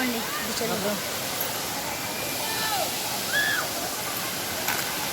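Water at Yadiki Kona waterfall pours in a constant, hissing rush that fills the scene, while faint voices talk briefly beneath the flow.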